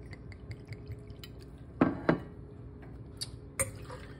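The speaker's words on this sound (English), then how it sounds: "So all I do is pour me a double shot in here." A double shot of vodka pours into a glass in a few short splashes and drips, with a couple of louder glugs and light glassy clinks in a quiet room.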